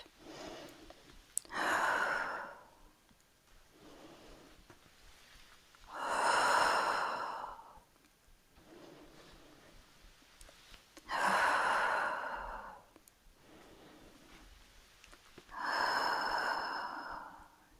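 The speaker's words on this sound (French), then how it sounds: "On inspire. On expire." Slow, deep yoga breaths come in four even rounds, each a long audible exhale or inhale separated by quiet pauses, close and unaccompanied by speech.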